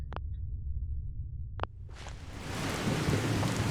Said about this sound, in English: I like the storms being loud.